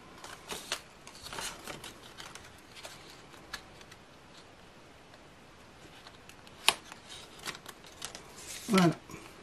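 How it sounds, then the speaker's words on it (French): Scissors snip through paper in scattered sharp cuts with a soft rustle between them, ending in a longer crisp slice, close and fairly quiet. "je vais couper, finir de couper avec les ciseaux si besoin"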